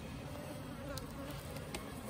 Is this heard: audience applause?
no